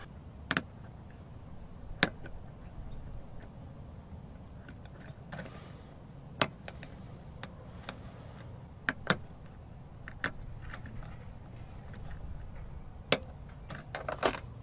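Faint, sharp metallic clicks tick irregularly over a quiet low hum, close and isolated: pins clicking inside a car lock being picked.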